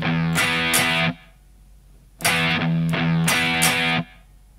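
A distorted electric guitar plays a riff as power-chord strums, two short bursts of chugging chords separated by a pause, loud and close with no talking.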